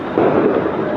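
A brief, muffled roar of firecrackers and fireworks exploding outside during Diwali, rising slightly partway through into a dense rumble of distant bursts.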